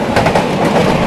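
An express train crawls slowly through heavy fog, a loud, close rumble of wheels on rails with faint clickety-clack over about a second.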